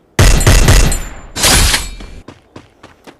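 In a shooting video game, a loud burst of rapid automatic gunfire is followed by a second volley, then several fainter single shots, all close and with no speech.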